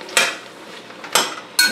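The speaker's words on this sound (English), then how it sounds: "We're stirring all that around." A spoon stirs fresh sliced mushrooms in a pot for homemade chicken soup, making three bright metallic scrapes and clinks against the pot, close and clear with quiet gaps between them.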